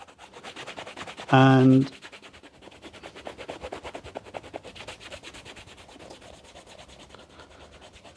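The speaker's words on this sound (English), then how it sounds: "the crepe rubber, and as you can see, we just use the flat part of the eraser" A crepe rubber eraser is rubbed flat against a Timberland boot in quick, even, repeated scrubbing strokes, close and fairly faint, with a short loud tonal burst near the start.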